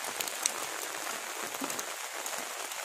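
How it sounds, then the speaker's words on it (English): Steady early-morning rain pours down at a Buddhist monastery in Sikkim, a dense, even patter of drops with occasional sharper splats, with no voices. "It's raining here."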